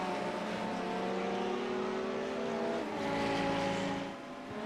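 An Element Sim LMP prototype race car roars past in a sim racing game at Barcelona, its steady high-pitched engine note sustained and loud, rising slightly as it nears before easing away near the end.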